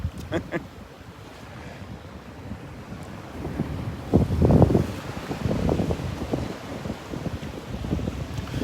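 Wind buffets a microphone during a morning beach walk in North Naples, Florida, a steady roar that swells into louder gusts partway through, with surf and faint voices underneath.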